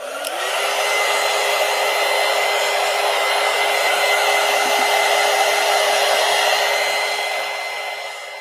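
A dryer blows steadily to dry acrylic paint, a loud, constant whirring roar close by that holds for several seconds before easing off at the end, with no talk.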